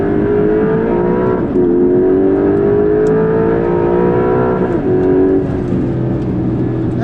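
A Porsche 911 Carrera GTS hybrid of the 992.2 generation accelerating hard out of a curve, its engine a loud, continuous, rising drone with brief pitch drops at gear changes, heard from inside.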